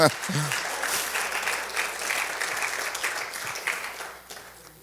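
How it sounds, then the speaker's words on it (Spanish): A church congregation applauds during a sermon, a broad, dense wash of clapping that starts right after a voice and holds steady before thinning toward the end. "Si quieren dar un aplauso al Rey, hágalo."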